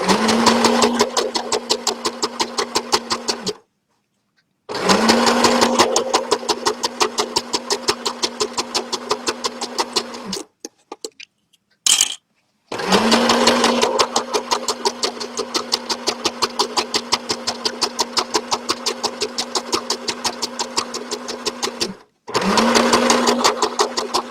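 A sewing machine runs in long steady bursts while stitching a striped tie-dye bag, its motor hum broken by short pauses between seams, loud and close with no talking.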